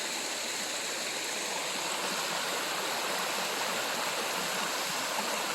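Steady broadband rush of a stream at a water crossing on the Towab trail in Lake Superior Provincial Park, continuous and close, with no voices.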